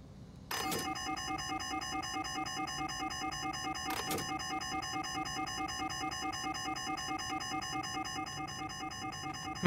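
A building alarm in Shadows of Doubt rings steadily and electronically with a pulsing, repeating tone, loud and continuous for the whole stretch, with two sharp knocks near the start and midway.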